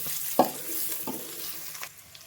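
Green chilies stirred in a frying pan, with a soft background sizzle and a few distinct scraping strokes of the spoon against the pan, close and with no talking.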